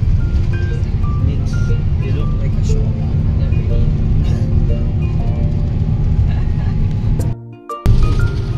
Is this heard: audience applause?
no